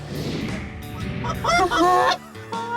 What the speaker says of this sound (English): And we can't forget about geese.